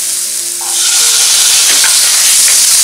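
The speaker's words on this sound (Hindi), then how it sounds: "अब हम इसमें मटर डालेंगे" Peas tipped into sizzling paneer bhurji in a pan, a loud, close hiss that swells as they land and then holds steady, with no talking.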